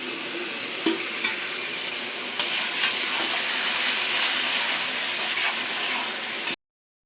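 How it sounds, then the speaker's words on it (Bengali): Spice masala for an amudi sea-fish curry sizzles and fries steadily in a pan, a continuous close hiss with a few louder scraping stirs, no talking. "আমার খুব সুন্দরভাবে কষাটা হচ্ছে মশলা কাঁচা গন্ধগুলো বেরোচ্ছে"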